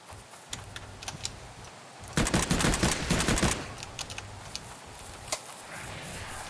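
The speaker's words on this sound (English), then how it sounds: "Dinos take quite a lot of shots." Rapid gunfire at dinosaurs in the video game Oooga Booga - Dino Survival, a dense burst of shots in the middle flanked by scattered single cracks, fairly loud and close with no talk.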